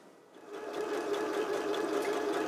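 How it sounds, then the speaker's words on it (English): A sewing machine runs a straight stitch seam around the sleeve of a beach kimono, starting up quickly and settling into a steady, fast mechanical whir. "So now we're just going to sew a seam right around this sleeve. I'm using a straight stitch"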